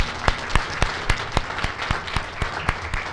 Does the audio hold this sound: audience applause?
yes